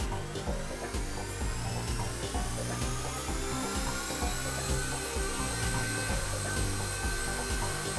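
A Blade mCPX small RC helicopter powers up and revs close by, its electric motor and rotor producing a loud, continuous whirring buzz with a rising high-pitched whine and steady rhythmic blade chop throughout.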